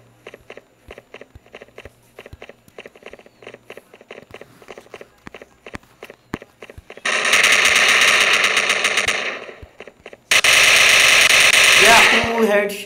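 Gunfire in the multiplayer shooter Stand Off: rapid, evenly spaced shots tick along before two long, loud bursts of automatic fire blast out one after the other, close and dominant.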